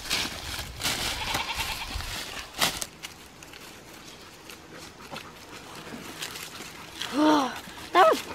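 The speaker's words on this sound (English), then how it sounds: "Those are some wild mountain goats." Outdoor woodland ambience with rustling and footsteps, then two short wild mountain goat bleats near the end, moderately close.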